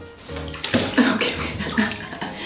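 Water runs into a bathtub to bathe a dog, splashing and gurgling at close range, with bursts of sloshing as it fills.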